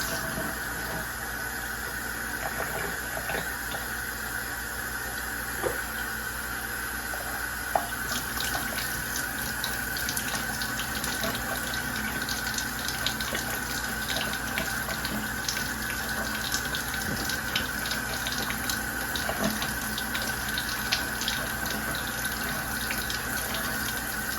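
Water runs steadily from a tap into a sink, a continuous close hiss and splash lasting throughout with a constant background hum beneath it and no talking.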